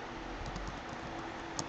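Keys tapped on a computer keyboard while entering a file name during GIS raster work, a quiet run of light clicks close by with a slightly sharper tap near the end.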